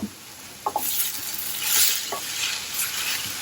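Ash gourd (kumbalanga) thoran sizzling in a pan while a spoon stirs it and curry leaves go in. A steady hiss runs throughout with a few light scraping clicks, and it swells briefly in the middle.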